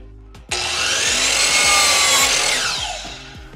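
Miter saw cutting a bevel through a 2.5-inch piece of wood: a sudden loud burst as the blade bites, a steady close roar of about two seconds, then a fade as it winds down.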